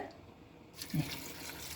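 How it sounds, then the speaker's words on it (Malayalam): Water is poured onto beans in a pressure cooker, a brief close splashing gush that starts partway through after a quiet moment. "ആവശ്യത്തിന് ഇത് നികന്ന് കിടക്കുന്ന രീതിയിൽ നമുക്ക് കുറച്ച് വെള്ളം ഒഴിച്ചു കൊടുക്കാം കേട്ടോ"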